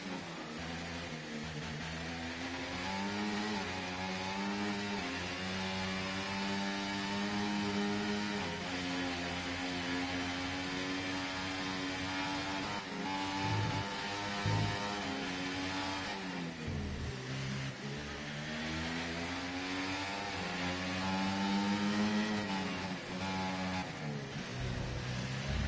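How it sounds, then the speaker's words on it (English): A Formula 1 car engine in the F1 24 video game at the Hungaroring in wet conditions whines steadily and loudly, its pitch rising and falling through gear changes over a long continuous stretch with no talk. "I can hear my engine a bit more now."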